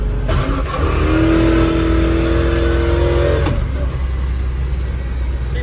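A 57 Chevy daily driver's engine revs up loudly during a downshift, a strong rising roar that holds for a few seconds, then drops back to a rumbling cruise.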